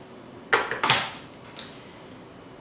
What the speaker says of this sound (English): It attaches magnetically.